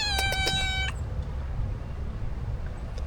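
A cat at a seaside campsite in Croatia meows in a few quick close cries at the start, then falls quiet under steady low outdoor rumble.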